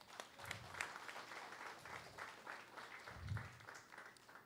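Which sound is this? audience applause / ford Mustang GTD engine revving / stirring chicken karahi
audience applause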